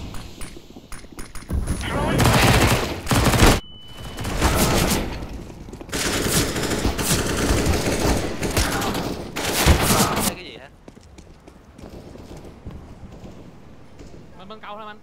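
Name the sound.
gunfire in Counter-Strike, Overpass map, video game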